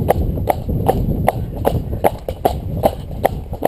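A cob horse trots along a country track, its hooves clip-clopping in a steady, even two-beat rhythm, close and loud over faint background rumble, with no talk.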